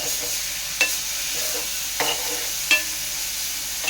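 A steady hiss of onions frying in oil in a pan for jackfruit curry, with a few sharp clicks and pops scattered through it and no voices.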